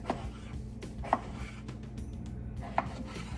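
A knife chopping elk-dinner vegetables such as potatoes and onion on a board, three sharp, quiet taps spaced about a second apart over low background hum.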